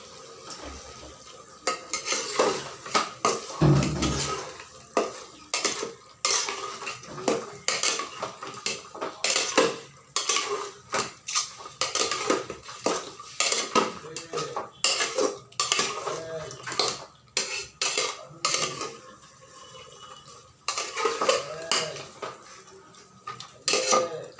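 A cooking pot holding handi mutton clatters as its lid goes on and off, with repeated metallic clinks, scrapes and stirring knocks close by, busy and irregular throughout.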